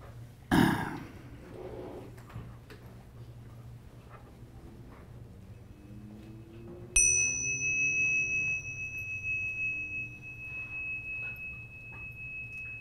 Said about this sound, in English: I'll ring the bell once at the beginning, 3 times at the end.